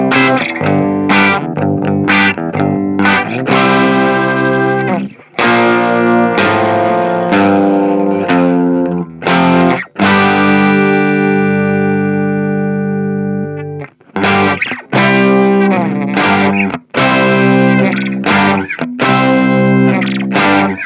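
Electric guitar on a Telecaster played through effects, loud distorted chords and sustained notes with chorus and echo, ringing out and cutting off in bursts, no talking.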